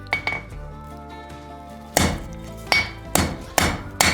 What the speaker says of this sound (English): we're going to come to the corner of our anvil